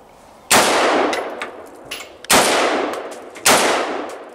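Three heavy .50 caliber gunshots fired at targets on a range, each a sharp loud blast with a long decaying tail, spaced more than a second apart.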